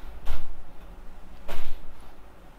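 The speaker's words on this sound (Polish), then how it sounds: "ja otwieram okno, bo duszno jest" A window is opened indoors, giving two short scraping, knocking sounds about a second apart in an otherwise quiet room.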